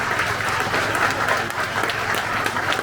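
At a mayor's New Year address, an assembly audience claps steadily, dense applause filling the hall at moderate loudness for a few seconds.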